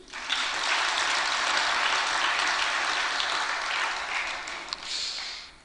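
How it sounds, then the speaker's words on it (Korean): A church congregation at Seonam Church claps for a youth choir after its praise song, a full, even round of applause that holds steady for several seconds before easing off at the end. "박수 한번 쳐줘."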